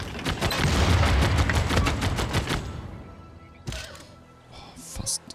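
Ranged units fire on an enemy in the strategy game Civilization VI, a loud volley of rapid gunshots that crackles for a few seconds, fades, and is followed by a few scattered later bangs.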